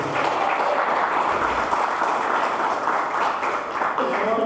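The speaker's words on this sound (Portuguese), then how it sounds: "Aplaude o nome do Senhor Jesus." A church congregation applauds during a Pentecostal sermon, steady sustained clapping from a crowd filling the space at even loudness throughout.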